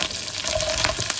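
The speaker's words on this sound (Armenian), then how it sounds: "Տապակվող մսին ավելացնում եմ կտրատված սոխ, մի քիչ բուսայուղ" Minced meat and chopped onion frying in a pan with a little vegetable oil over low heat, giving a short, steady close sizzle with light stirring scrapes and no voices.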